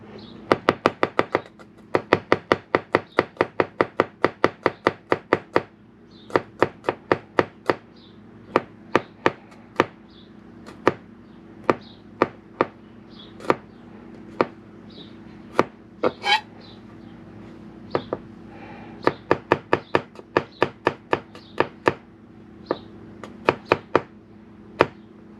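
A kitchen knife chops garlic on a cutting board while carne asada is prepared, giving close, sharp knocks in fast bursts that slow to spaced single strikes and then speed up again, with no talking.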